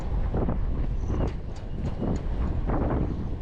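Strong gusting wind of up to 60 to 70 km/h buffeting a microphone during a DJI Air 3 drone storm test, loud rumbling bursts surging and easing in irregular waves.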